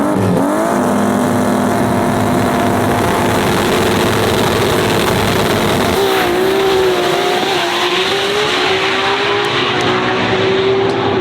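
Drag race cars, an RB-engined Skyline GTR against a 2JZ-powered rival, launch and accelerate hard at an import drag event, loud roaring engines climbing through gears with a shift and rising pitch, no talk over them.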